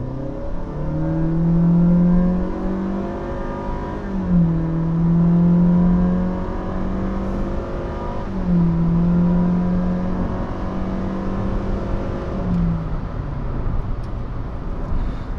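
Honda City with a CVT gearbox accelerating hard in Sport mode, the engine droning up in repeated long rising surges with brief dips between them, loud and close from inside the cabin.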